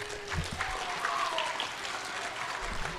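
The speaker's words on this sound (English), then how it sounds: "everybody give everyone a round of applause" Fifth graders and families at a DARE graduation applaud in a continuous, moderately loud patter of clapping, with faint crowd murmur and a few stray higher sounds mixed in.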